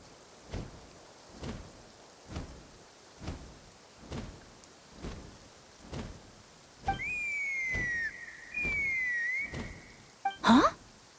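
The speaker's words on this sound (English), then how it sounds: "That sounded like a whistle." A video game whistle sounds as two sustained, slightly wavering blasts over a steady hiss and regular soft thuds, then a brief sharp swooping tone cuts in at the end.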